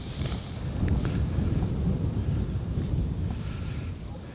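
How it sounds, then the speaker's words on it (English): Wind buffets an outdoor microphone in a continuous low rumble of gusts, loud and close, with no clear voices over it. "sorry about the wind"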